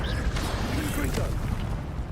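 Confringo fire-blast spell in Hogwarts Legacy, a brief rumbling burst of explosive noise with dense low roar and crackle, loud throughout the short moment.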